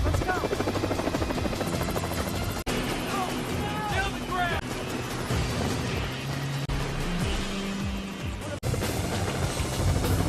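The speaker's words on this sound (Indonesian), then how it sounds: "AJ membajak helikopter milik media berita untuk kemudian mereka pergi dari sana" A hijacked news helicopter flies off from a rooftop in a heist movie, its rotor drone running steadily and loudly beneath a dense action score with sound effects throughout.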